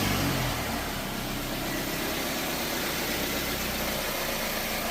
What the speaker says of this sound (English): next I'm going to start the car